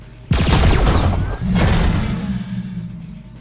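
Heavy supportive gunfire from teammates in the ACE Academy video game erupts suddenly, a loud burst of booming shots and whooshing impacts, then dips briefly and resumes as a sustained roar.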